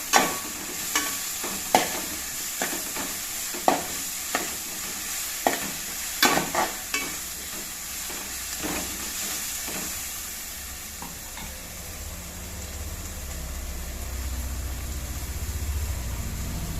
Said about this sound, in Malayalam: പച്ചമുളകും കൂടി ഒന്ന് വാടി വെക്കാം.